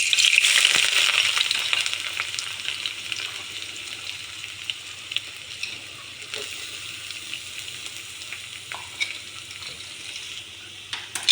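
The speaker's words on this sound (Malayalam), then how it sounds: "അപ്പം ഇതൊന്ന് കാഞ്ഞ് വരുന്ന സമയത്ത് നമുക്ക് നമ്മുടെ വെല്ലുള്ളി ഇട്ട് കൊടുക്കാം." Garlic frying in hot coconut oil in a pan, a steady close sizzle that is loudest at the start and then settles into a quieter crackle, with no talking.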